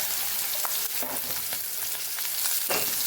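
Okra sizzles and crackles steadily in hot oil with asafoetida in a pan, a dense continuous frying hiss with occasional louder pops and stirring scrapes, close and alone.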